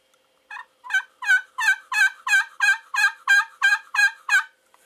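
Turkey call worked with a titanium striker on a custom friction call, about a dozen raspy, throaty yelps in a steady rising-and-falling run, loud and close with no talk.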